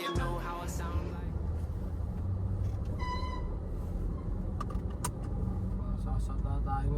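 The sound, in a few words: car driving on a highway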